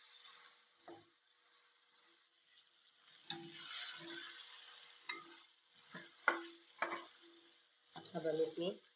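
Garlic and ginger paste fries in a pan, with soft sizzling and intermittent scraping and stirring strokes from a spoon, close and fairly quiet, with sharper bursts near the end.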